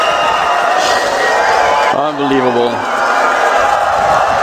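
A packed esports arena crowd at the PGL Major Krakow 2017, Virtus.Pro versus North, keeps up a steady, loud roar and cheer while a commentator speaks over it.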